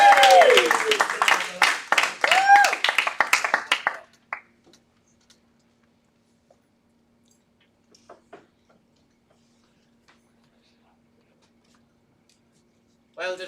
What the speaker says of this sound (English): I expect a large round of applause here